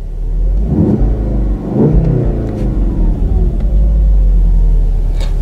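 The engine of a 2016 Volkswagen Golf R, heard from inside the cabin, revs up twice in quick swells, then settles into a steady loud drone with a rising whir.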